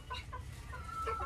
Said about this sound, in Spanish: Miren ese pollito.